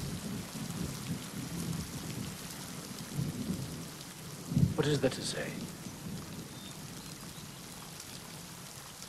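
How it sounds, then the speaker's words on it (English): Steady rain falls throughout, with a low roll of thunder rumbling in the middle; a voice speaks briefly over the downpour. "Let me just say it before this rain stops and we go back."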